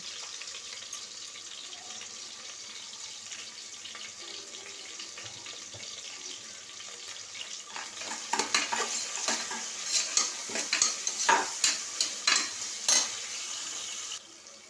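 Onions sautéing in a pan with a little rock salt, a soft steady sizzle that swells in the second half with louder scraping and stirring strokes, close and without voices.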